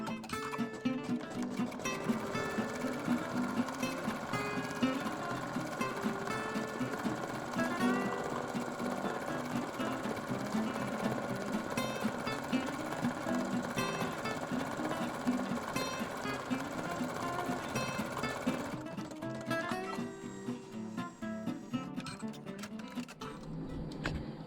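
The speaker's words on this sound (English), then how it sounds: "it's going to do a decorative stitch over the top of the satin stitch" An embroidery sewing machine stitches a decorative pattern over satin stitching on a quilt block, running steadily and fairly close with a fast, even mechanical chatter for most of the stretch before it changes pace near the end.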